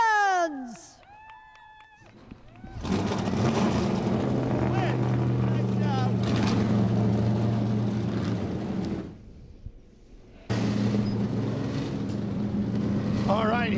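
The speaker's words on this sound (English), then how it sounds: "Drivers, start your engines!" Historic Trans Am race cars firing up their engines at Sebring, a loud, layered roar of many idling and revving V8s after an opening announcement, briefly dropping before the thunder returns.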